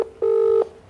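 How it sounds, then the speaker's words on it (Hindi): A phone keypad gives a single clear, loud dialing tone of about half a second, heard close and alone against quiet background hiss. "देखिए प्रशांत किशोर को फ़ोन लगा रहे हैं"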